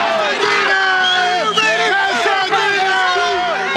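A huge stadium crowd of 91,000 fills the LA Coliseum for a Raiders–Dallas Cowboys football game, a dense continuous roar of voices with rising cheers and whoops throughout, loud and close.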